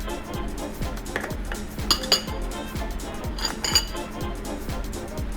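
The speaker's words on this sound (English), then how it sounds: "So just mix them all together" Tartar sauce ingredients are stirred together in a bowl with a utensil, giving repeated light clinks and scrapes against the dish in an uneven rhythm, close by with soft background hum.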